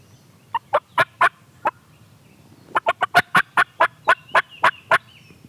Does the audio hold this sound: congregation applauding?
no